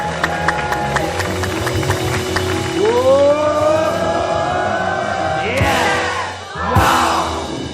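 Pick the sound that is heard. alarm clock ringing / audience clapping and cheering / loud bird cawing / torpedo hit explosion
audience clapping and cheering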